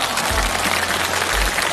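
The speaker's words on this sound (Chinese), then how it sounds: "你们给他掌声好吗" An audience applauds at a live televised music show, a broad, steady wash of many hands clapping with a few low thumps underneath.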